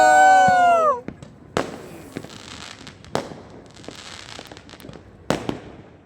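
Firecrackers burst outdoors on New Year, heard as several sharp, loud bangs spaced a second or two apart with crackling in between, after a brief whistling tone at the start.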